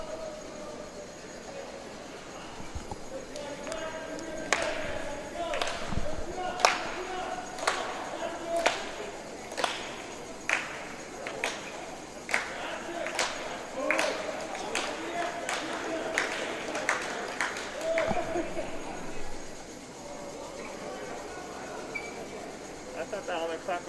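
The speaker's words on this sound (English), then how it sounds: "I thought that all that clapping was for me coming in." Spectators at a cross-country race clap in short, sharp bursts, repeated bouts of applause rising and falling at a distance while voices talk over the scene.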